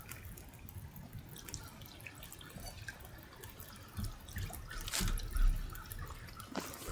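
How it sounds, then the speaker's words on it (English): Water heating for tea in The Long Dark gives a faint, steady trickle with soft drips and a few slightly louder splashes near the end, with no voices. "We'll set a little water to cook it while we're gone."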